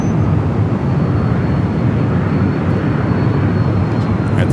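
An airliner at Los Angeles LAX airport roars in a loud, steady, broadband engine rumble close by, with no break over the few seconds.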